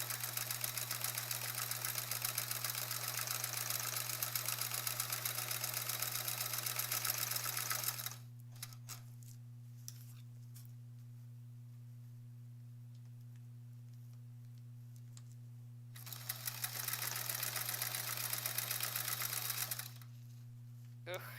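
Sewing machine free motion quilting over applique, a fast steady stitching whir running for about eight seconds, pausing, then resuming, with a constant low electrical hum throughout.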